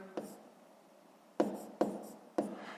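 Numbers being written by hand during a fifth-grade math exercise, a few short scratchy pen or chalk strokes in separate bursts, close and fairly quiet.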